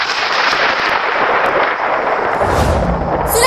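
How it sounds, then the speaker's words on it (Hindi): A deep, continuous rumbling roll of thunder fills the whole stretch, loud and sustained, with a slightly heavier burst near the end. "बादल गरजने लगा"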